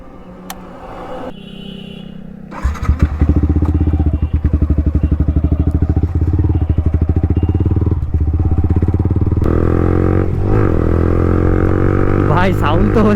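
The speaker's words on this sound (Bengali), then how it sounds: "বাইক রাইড করার সময় এক্সস্ট নোটটা কেমন হয় চলো সেটা তোমাদের দেখাবো" A Yamaha R15 V3 with an Akrapovic full-system exhaust is ridden. Its loud, close, rapid exhaust pulse drones steadily as revs climb and settle, with someone talking over it.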